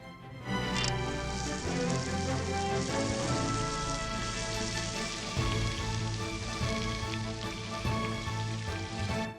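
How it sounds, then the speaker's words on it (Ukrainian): Steady, crackling sizzle of butter melting in a hot frying pan, dense and continuous at close range, with a few faint clinks near the start. "І тепер на гарячу сковорідку відправляємо шматочок масла."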